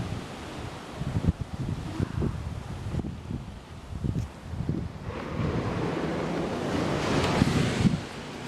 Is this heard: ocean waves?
yes